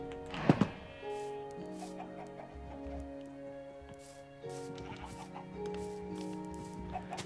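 Minecraft chickens cluck in short, quiet bursts over a steady layered game tone, with a couple of sharp thunks near the start.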